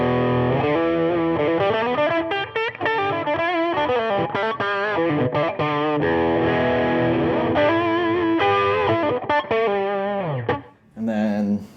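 Electric guitar played through a boost pedal on a pedalboard, a run of distorted, sustained notes and chords with shifting pitches, loud and close throughout, cutting off briefly near the end.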